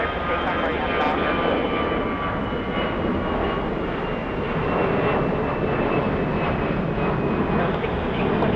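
An airplane takes off from runway 25 right at LAX, its engines roaring loud and steady throughout, with a faint whine layered on top.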